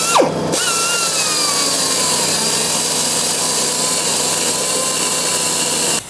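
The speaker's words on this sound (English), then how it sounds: "So I think what I'm gonna do is grind that just a little bit" An angle grinder runs steadily against metal on a 1956 Ford driveline, a loud sustained whine with a brief pitch shift at the start, close and uninterrupted with no speech.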